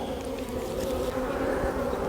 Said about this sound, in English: These bees aren't very happy with me. They're kind of buzzing me.